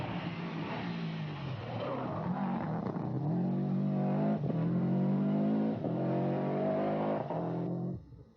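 Subaru Impreza rally car at the 1995 Ulster Rally, its engine loud and close, revving hard with several rising pulls and sharp gear-change breaks before cutting off abruptly.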